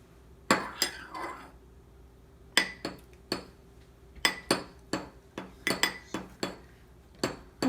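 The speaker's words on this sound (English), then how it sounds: "stir until combined" A spoon clinks repeatedly against a glass while stirring green food coloring into water, sharp bright taps in irregular bursts separated by short pauses, close and fairly quiet.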